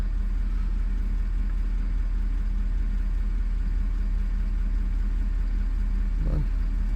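A Wacker Neuson ST31 loader's diesel engine, gelled fuel and boosted by a jump pack, runs as a low steady rumble close by, with a brief louder burst near the end; no speech.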